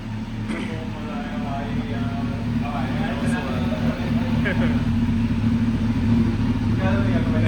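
A Kawasaki Z900 motorcycle fitted with an Arrow exhaust idles with a steady, deep low burble that holds even throughout. Voices talk over the engine for most of the stretch.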